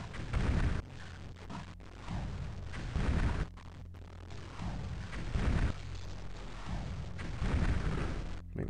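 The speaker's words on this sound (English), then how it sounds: "Fireball. Vampires don't like fire." Fireball spells explode in the video game Daggerfall as repeated loud, rumbling blasts, several bursts in succession with a roaring, noisy tail between them.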